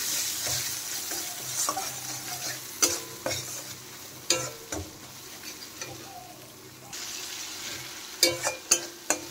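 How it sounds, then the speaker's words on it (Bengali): Spice paste with green chilli and salt stir-fried in a pan, a soft close sizzle punctuated by sharp spatula scrapes and taps against the metal. "এখন মশলা ভালোভাবে কষিয়ে নেব"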